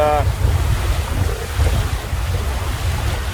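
Sailboat under sail off the Queensland coast between Great Keppel and Island Head, steady heavy wind buffeting the microphone over rushing water and waves against the hull, continuous and close.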